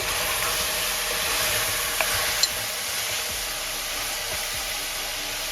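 Goat meat with ginger garlic paste, 1 tablespoon garlic and 1.5 tablespoons ginger, being stirred in a pan: a steady close sizzle and hiss with a couple of faint utensil clicks.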